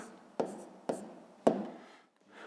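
Pen or chalk writes out the answer to a fifth-grade decimal subtraction problem, heard as three short close scratching strokes spaced about half a second apart, each fading before the next, with a faint fourth stroke at the end and no talk.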